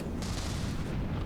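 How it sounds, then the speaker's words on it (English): Battleship cannons firing in the naval combat game From the Depths, a dense continuous rumble of heavy booms packed together for over a second, loud and close. "Those cannons are not a joke. They're very scary."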